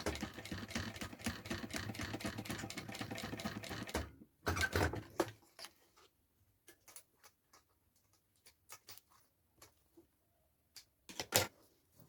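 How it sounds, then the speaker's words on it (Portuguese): Sewing machine stitching a mini backpack, a rapid rhythmic run of stitches for several seconds, then stopping and leaving scattered faint clicks and handling taps. "vou fazer uma costurinha aqui"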